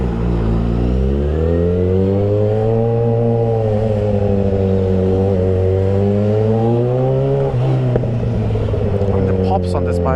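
Yamaha XJ6 motorcycle engine droning steadily while riding, its pitch rising and falling with the throttle, loud and close, with a scatter of sharp exhaust pops near the end.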